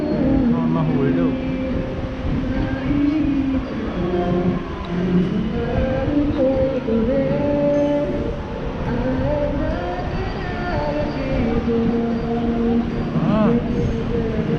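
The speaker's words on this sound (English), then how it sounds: "look at those trains, very fast" A fast train in Osaka rumbles past with a continuous rolling, clattering drone that holds steady throughout, with a voice murmuring faintly underneath.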